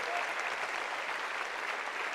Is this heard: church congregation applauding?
yes